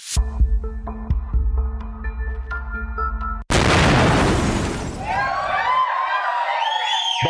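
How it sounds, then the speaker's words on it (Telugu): A bomb explosion sound effect in a game show hits suddenly after light background music, a loud, close boom that rumbles and fades into crowd noise and bright cheering. "బాంబ్ పేలింది."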